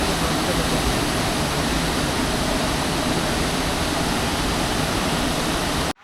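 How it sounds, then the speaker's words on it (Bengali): Tiru waterfall in Jharkhand roars as a constant, broad rushing wash of falling water, loud and unbroken, with no voices, cutting off abruptly at the end. "first glimpse of Tiru waterfall"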